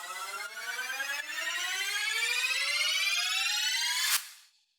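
Several rising synth sweeps stacked together climb steadily in pitch for about four seconds, building to a loud peak before cutting off into a brief fade.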